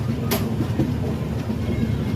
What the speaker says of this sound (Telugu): రేణిగుంట జంక్షన్ నుంచి అయితే ఇప్పుడే ట్రైన్ బయలుదేరింది